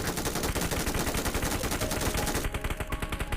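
Rapid automatic machine gun fire from a battle royale game rattles on continuously, loud and close, as a dense stream of evenly spaced shots.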